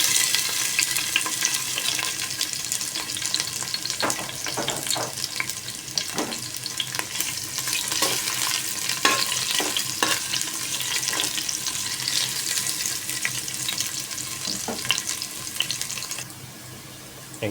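Garlic and ginger sauté in a hot pan for a mixed vegetable stir-fry, giving a steady, fairly loud sizzle broken by repeated scraping and stirring clicks from a utensil.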